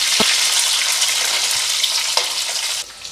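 Bitter gourd pieces frying over high heat in a pan make a loud, steady sizzle, with a few soft knocks from stirring.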